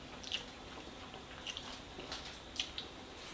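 Someone chews Ivorian jollof rice and sweet plantains up close, with soft wet bites, squishes and a few crisp crunches over a quiet background and no voices.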